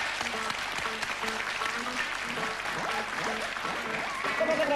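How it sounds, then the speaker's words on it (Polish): A TV talk show studio audience claps enthusiastically and steadily throughout, with voices audible over the applause. "Po takiej deklaracji wielkie brawa"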